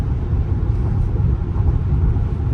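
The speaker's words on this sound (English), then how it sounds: "This Z71 all-wheel drive Traverse floats down the road." A 2025 Chevrolet Traverse Z71 with all-wheel drive cruising along the road, giving a steady low rumble of engine and tire noise throughout, heard from inside the cabin with no talk.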